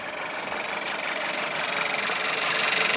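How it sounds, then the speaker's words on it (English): An Audi A3 1.4 TFSI engine idles steadily nearby, a smooth, even hum with a faint ticking texture and no voices. "it is a very sweet sounding engine"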